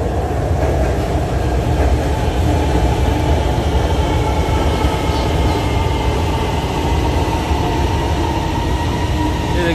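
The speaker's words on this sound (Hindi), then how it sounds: "ये देखें जी ट्रेन कितनी स्पीड में आ रही है।" An Orange Line metro train pulls into a station with a loud, steady rumble of wheels on track, constant rail clatter and a faint high squeal throughout, close by and with no voices.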